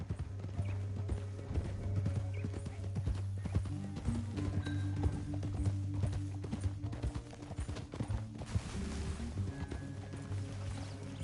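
Horse hooves clip-clop in a quick, steady galloping rhythm in Red Dead Redemption 2, with a brief neigh and a low rumbling game soundtrack underneath.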